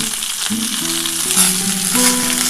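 Potatoes, eggplant and beans fry in a pan of oil for a fish curry, giving a loud, steady, continuous sizzle with a soft tonal hum running underneath and no talking.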